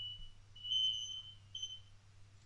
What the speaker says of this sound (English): Alright, whose fire alarm was that?